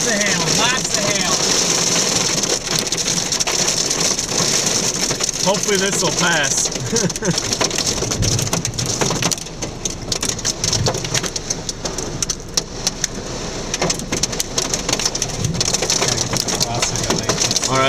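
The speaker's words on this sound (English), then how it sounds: "we got some big ass hail. Lots of hail, lots of hail" Heavy rain and large hail from a tornadic supercell storm in northern Illinois pound a vehicle, dense crackling impacts rising and falling in waves, with someone speaking briefly over the clatter.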